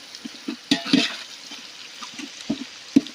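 Onions sauté in a village cooking pan for chicken gravy: a quiet frying hiss with irregular stirring knocks and scrapes close by, several sharper hits spaced about half a second apart.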